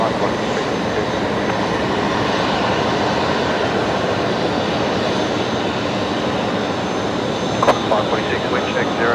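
A Qantas jet lines up on runway 01 right at Brisbane Airport at night, its engines producing a loud, steady roar that holds unbroken throughout.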